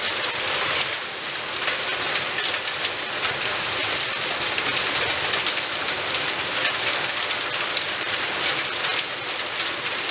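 Hail pours down steadily in Cantalice in the Rieti area of Lazio, a dense, continuous hiss and patter of stones striking surfaces, loud and unbroken throughout with no voices.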